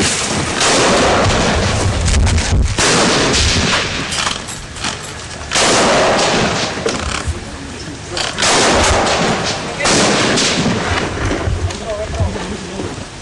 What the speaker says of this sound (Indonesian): penyerangan atau kontak senjata ini terjadi sejak tiga jam yang lalu saat ini masih tetap terus berlangsung